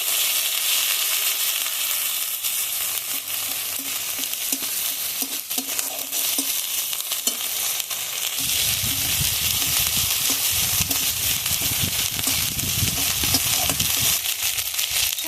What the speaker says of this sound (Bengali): এখন সব কিছু একসঙ্গে ভালোভাবে কষিয়ে নেবো